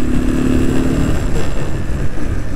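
A motorcycle engine runs steadily close by after refuelling, a loud low rumble with a faint rising whine at the start, holding an even drone throughout with no talk.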